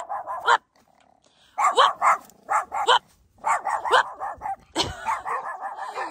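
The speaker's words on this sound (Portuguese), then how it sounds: "Cachorro bravo, né?" A fierce dog barks angrily in quick clusters of sharp, loud barks broken by short pauses, with a deeper growling edge, close to the listener.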